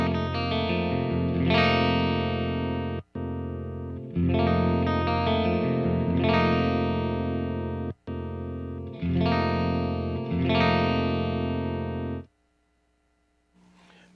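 Electric guitar through a Headfirst Alta amp on the clean channel with the bright switch engaged, loud sustained strummed chords in several phrases with brief breaks, ringing out at the end.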